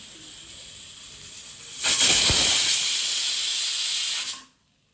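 A pressure cooker holding rice on a gas stove vents steam after its whistle, a loud, steady hiss that starts abruptly partway through, holds for a couple of seconds, then cuts off into silence.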